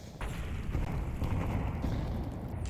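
Grenades detonate in a Counter-Strike esports match on the Ancient map, with several blasts blending into a continuous, loud, rumbling roar that starts abruptly and holds steady to the end.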